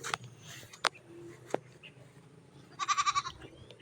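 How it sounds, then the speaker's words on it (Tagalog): Goats in a farm goat pen give a short, quavering, wavering bleat near the end, clear and close, after a few scattered clicks and soft knocks over a quiet outdoor background. "Oh, mga kambing."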